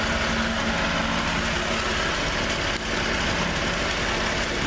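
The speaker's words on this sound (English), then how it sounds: "shuddering, like it's idling too low or something." Boat engine idling too low, a rough, steady low rumble with a jangly shudder running through it, loud and continuous throughout.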